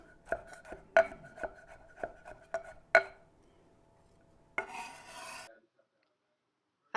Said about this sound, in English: Then we're going to roughly chop 3 cloves of garlic.